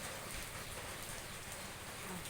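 Steady rain falling on a surface, a dense continuous patter with no pauses and no voices.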